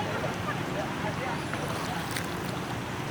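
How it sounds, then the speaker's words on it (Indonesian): Fast-flowing flood water rushing through a street in Jakarta, a steady broadband wash and roar that runs throughout, with voices talking over it. "Airnya kenceng ya?"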